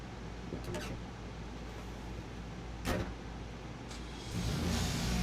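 Police car engine in the video game Grand Theft Auto, with a steady mid-pitched drone, a short rev swell about three seconds in and the engine climbing louder toward the end; no talk.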